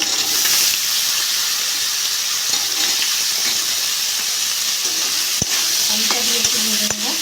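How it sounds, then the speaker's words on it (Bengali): Potatoes frying in a pan for a pumpkin and potato fry, a loud continuous sizzle and hiss up close, with a few clinks of stirring near the end and no voices. "আলুটা দিয়ে একটু ভেজে নেবো।"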